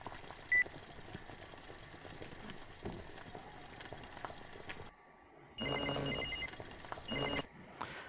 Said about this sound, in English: Will's answering his phone